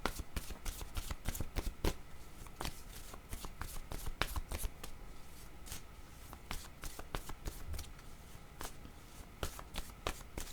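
Tarot cards shuffled and drawn during a reading, a run of crisp, rapid riffling snaps and soft slides repeating across the span, close and fairly quiet with no voice over them.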